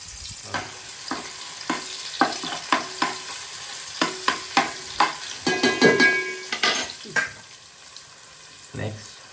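Garlic frying in oil for a Konkani stuffed crab dish sizzles softly beneath repeated metallic scrapes and clinks of a utensil stirring in the pan, with a denser burst of stirring midway.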